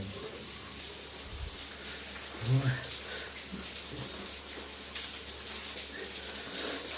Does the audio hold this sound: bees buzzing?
no